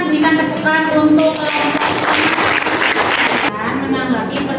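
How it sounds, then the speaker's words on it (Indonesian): Audience applause at an Indonesian school presentation on Muslim scientists of the Umayyah era, a dense continuous clapping spread across the room with voices mixed in. "Silakan berikan tepukan untuk"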